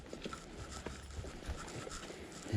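Hooves clop at a steady walking pace on the ground, moderately close, with some faint background noise.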